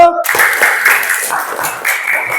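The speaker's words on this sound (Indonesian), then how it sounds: "Tepuk tangan untuk kelompok satu" A classroom group gives a short burst of clapping for group one during a computational-thinking lesson, a brief, close patter of hands that starts abruptly and carries on with a few scattered voices.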